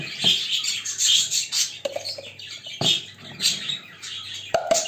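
Pet budgerigars chirping indoors in a home, a steady busy chatter of small high twitters and squawks running throughout, fairly close and loud with no talk over it.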